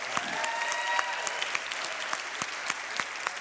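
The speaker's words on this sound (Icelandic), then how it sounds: "gefa honum sérstaklega gott klapp núna" An audience claps at a concert mass in a church, a steady roomy patter of applause with a few louder individual claps standing out, continuing throughout at moderate level.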